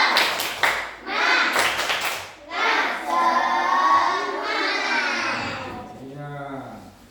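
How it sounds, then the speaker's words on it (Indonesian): Children in a classroom perform a rhythmic cheer clap, loud, close bursts of patterned clapping mixed with chanting and shouting voices. "kita beri dulu tepuk semangat"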